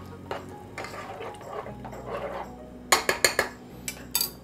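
Curry paste is mixed into red curry chicken in a pot, with soft scraping and stirring followed by a quick run of sharp metallic clinks of a utensil against the pot, close and clear.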